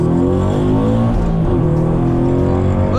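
An engine revs hard and pulls away, a loud and continuous roar with its pitch climbing over about three seconds and then settling into a steady drone.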